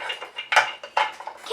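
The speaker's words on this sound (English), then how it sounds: "Just gonna mix this up." Slime being mixed in a bowl with a spoon, a brief run of soft wet scraping and clattering strokes, close and fairly loud, with no talk.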